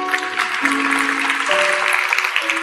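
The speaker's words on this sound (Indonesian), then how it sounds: "Kasih tepuk tangan untuk Tuhan." A church congregation claps steadily through a Philip Mantofa sermon, an even wash of applause layered over sustained musical tones from the sanctuary.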